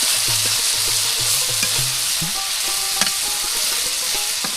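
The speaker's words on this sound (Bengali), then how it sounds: "তো পেঁয়াজ কিন্তু তেলের মধ্যে ভেজে নেওয়া হচ্ছে, পেঁয়াজ মরিচ আরও বিভিন্ন ধরনের মশলা।" Chopped onions, chili and mixed spices fry in oil in a village kitchen, with a loud, constant sizzle and a nearby low tonal hum pulsing underneath.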